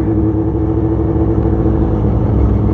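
A 1989 Yamaha FZR400R EXUP motorcycle with a stainless short pipe exhaust runs loud and close, holding a steady, even engine drone.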